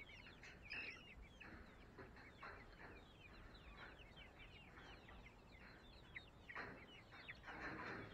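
A flock of chickens around a large DIY coop cluck and murmur continuously nearby, with scattered sharper squawks rising over the quiet, steady farmyard chatter.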